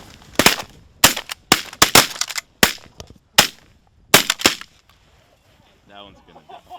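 Shotgun blasts during a late-season mallard duck hunt, about nine sharp, loud cracks fired in quick irregular succession, followed by quieter sounds and a short burst of voice.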